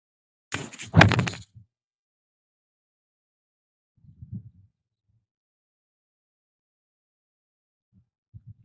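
A pitching wedge strikes a golf ball on a course with one sharp, close impact near the start, followed by a few faint low thuds amid otherwise near silence.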